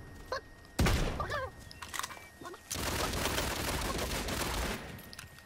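Gunfire crackles in the battle royale game Realm Royale: a loud sudden shot, scattered bursts, then a sustained noisy stretch of firing, with brief vocal sounds early on.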